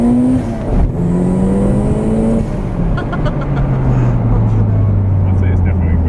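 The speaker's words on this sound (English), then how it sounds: "I'd say it's revving quicker, for sure" Toyota MR2 SW20 GT-S with a turbocharged 3S-GTE engine revs up and settles, its engine tone rising and then falling steadily over the clip while people talk over it.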